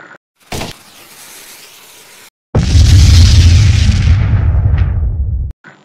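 Explosion sound effect: a short sharp pop, a quiet gap, then a loud roaring blast with a heavy rumbling tail lasting about three seconds before it cuts off abruptly.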